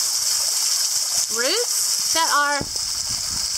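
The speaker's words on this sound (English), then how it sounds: "dripping water down into the pool" Water trickles from roots down into a mineral hot spring pool at The Warm Baths in St Lucia, a steady close rush beneath a man's brief speech.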